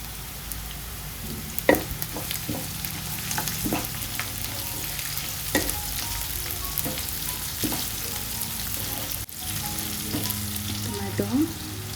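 Tomatoes and green chillies fry in a pan with a steady close sizzle for twelve seconds, punctuated by occasional clicks and scrapes of stirring, while tomato chitranna is being made.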